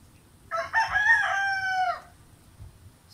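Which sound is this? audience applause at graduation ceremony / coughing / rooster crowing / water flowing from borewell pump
rooster crowing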